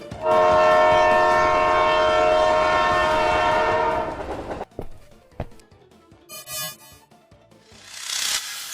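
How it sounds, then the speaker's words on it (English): A cartoon runaway ice cream train sliding fast on a frozen track blasts a loud, sustained horn for about four seconds, then gives way to sparse clanks, a short hiss and a rising rushing swoosh. "Track's frozen. Train sliding very fast."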